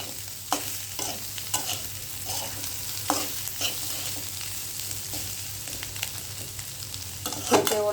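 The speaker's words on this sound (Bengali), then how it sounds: "ডিম দিয়ে পটল ভাজি" Pointed gourd fries with egg and panch phoron in a pan, a constant close sizzle punctuated by regular scraping strokes of a spatula, with a louder clatter near the end.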